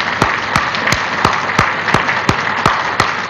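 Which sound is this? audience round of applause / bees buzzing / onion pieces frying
audience round of applause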